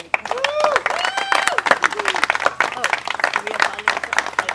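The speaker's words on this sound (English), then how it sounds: "Please give them a round of applause." Wedding guests break into applause at a ceremony, a burst of clapping from the crowd mixed with cheers and overlapping talk, close and lively throughout.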